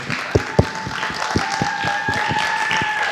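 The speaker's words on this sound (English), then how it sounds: "Let's get a round of applause for Kayla." A classroom audience claps for a student speaker at a school talk event, scattered individual claps starting sparse then blending into a brief patter, moderately near.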